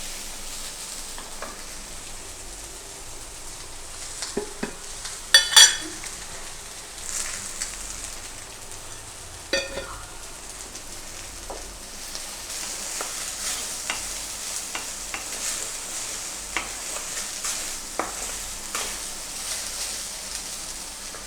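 Okra sautéing in a pan for vendakkai pachadi, a soft continuous sizzle with scattered clicks and scrapes of stirring, close and fairly quiet, no voices.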